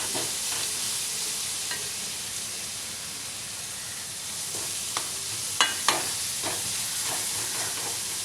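Onions or aromatics sautéing in a pan, a steady broad sizzle with occasional sharp scrapes and clicks of a spoon stirring, moderately close and with no talk.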